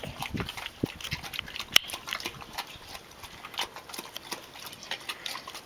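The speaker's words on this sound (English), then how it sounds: "There's your Porky and Gracie, our foster piggies." Pigs munch and root close by, with soft irregular chewing, snuffling and clicking noises, one sharp knock standing out.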